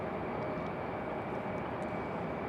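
Republic Airways airliner at Raleigh-Durham International Airport, a steady, loud broadband engine roar that holds even throughout without any clear rise or fade.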